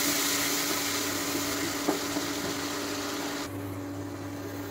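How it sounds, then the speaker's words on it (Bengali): A ginger, tomato and green chilli paste sizzles and hisses in a hot pan as it is stirred, with a brief scrape midway; the frying noise is steady and close, then drops sharply quieter near the end. "পেস্টটা দিয়ে এখন একটু নেড়ে দেবো।"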